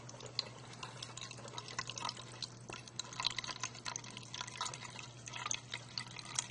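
Water trickling and dripping out of a test setup after about 450 milliliters have been added, a soft irregular patter of small drops over a low steady hum, with no talking.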